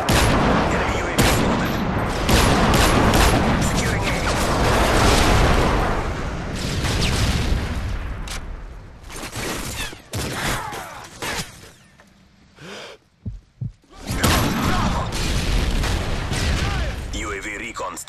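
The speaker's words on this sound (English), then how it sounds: "Friendly airstrike on the way." A friendly airstrike in a military shooter: dense rolling explosions and rapid gunfire in loud sustained waves, thinning into scattered bursts and brief gaps before erupting again, with game voices talking through it.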